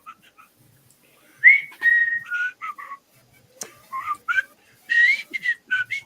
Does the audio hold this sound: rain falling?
no